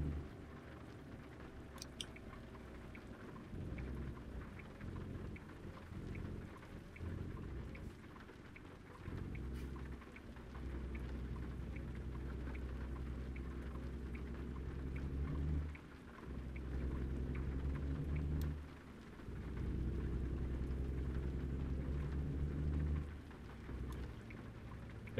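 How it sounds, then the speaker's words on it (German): A heavy downpour in the American Truck Simulator game: steady, fairly quiet rain hiss over a low rumble, with the intensity shifting in broad swells for the whole stretch. "wenn es hier regnet, dann kommt es aber ordentlich runter"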